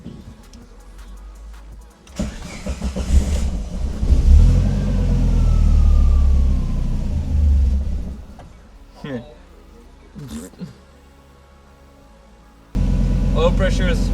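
An engine-swapped Mazda Miata running on five cylinders starts up, revs loud and close, then settles to a quieter idle before a loud surge at the end, with people talking over it.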